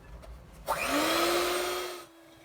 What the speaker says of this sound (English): We're going to add our dry ingredients gradually into our wet ingredients and continue to whisk at the same time.